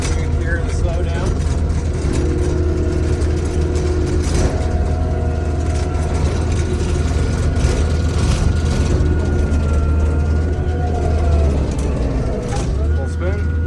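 A Kubota diesel engine in a Takeuchi TL12 tracked compact loader drones loud and close with a steady low rumble, its pitch easing as the machine drops to turtle speed.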